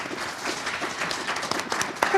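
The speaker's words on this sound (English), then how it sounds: "can we have a round of applause for all of our candidates tonight?" An audience at a city council candidate event applauds in a brief, soft patter of mixed clapping, somewhat distant and partly under voices.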